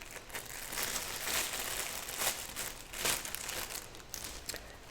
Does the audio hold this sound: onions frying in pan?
no